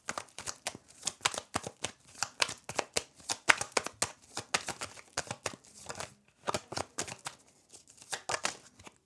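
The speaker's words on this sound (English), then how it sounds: "But now I want to draw out cards for love and relationships." Tarot cards being shuffled and drawn for a pick-a-card reading, dense bursts of papery riffles and flicks in quick rhythmic runs, close and fairly quiet, with no talking.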